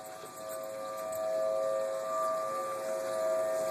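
Tornado warning siren wailing at a distance outdoors, a steady sustained tone that swells slightly louder through the clip.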